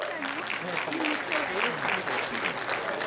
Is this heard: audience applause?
yes